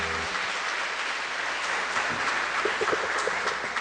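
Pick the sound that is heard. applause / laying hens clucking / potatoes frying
applause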